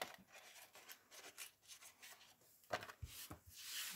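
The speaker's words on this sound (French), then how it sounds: "Là, je coupe tout droit. Je préfère couper tout droit" Faint, quiet snips and rubbing as paper is cut straight with scissors for a handmade drawer box, a few short cuts close by with no talk.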